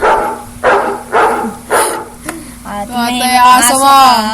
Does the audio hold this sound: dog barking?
yes